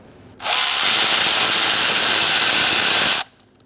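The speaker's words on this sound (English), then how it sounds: "now you're going to use a 10mm socket to take out this bolt" A power tool or impact driver with a 10mm socket spins out a bolt on the engine of a 2002-2006 Toyota Camry, one loud steady whir of about three seconds starting and stopping abruptly.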